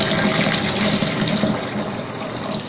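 Red spinach leaves are rinsed under steady running water, producing a continuous close gushing and splashing with no talk.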